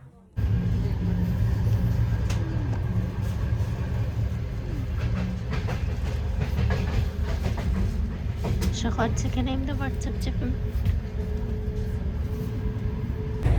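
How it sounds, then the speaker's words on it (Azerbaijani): A Tbilisi–Baku passenger train rolls out, its steady low rumble and faint rail clatter heard from inside a sleeper compartment, with a person talking over it throughout. "Uşaqlar, qatarımız yola düşdü."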